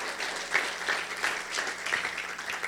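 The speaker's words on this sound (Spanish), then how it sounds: "démosle un aplauso al Señor." A church congregation applauding during a Spanish-language sermon, a steady, fairly faint wash of clapping with no talk over it.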